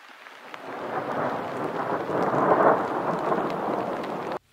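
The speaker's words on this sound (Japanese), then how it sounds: "なかなか雨は止まない。" Steady heavy rain with rumbling thunder in the mountains of Hokkaido near Minamifurano, a dense continuous wash that swells in the middle and then cuts off abruptly.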